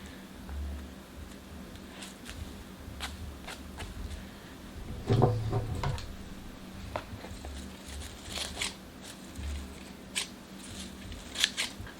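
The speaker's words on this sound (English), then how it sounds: "These are kind of crazy scissors. They're huge." Large scissors snip cardboard repeatedly at close range, crisp cutting clicks and crunches scattered irregularly across a quiet background, with one louder burst midway.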